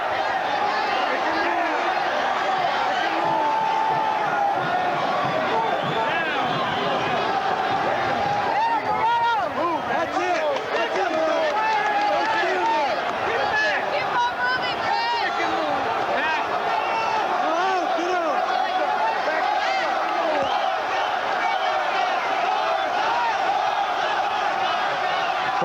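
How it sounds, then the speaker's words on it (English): Hometown crowd at a boxing match cheers for Garza, a dense roar of shouting and whooping that stays loud and continuous throughout, with a commentator talking over it. "The hometowners cheering for Garza"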